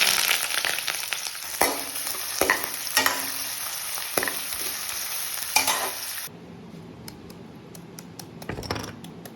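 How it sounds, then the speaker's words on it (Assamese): Onions fry in mustard oil in a kadai, a close bright sizzle with scraping stirs from a spatula for several seconds, then the sizzle cuts off leaving a few faint taps. "এতিয়া কেৰাহীখনত অলপমান মিঠাতেল দি লৈছোঁ আৰু অলপমান পিঁয়াজ ফ্ৰাই কৰি লৈছোঁ।"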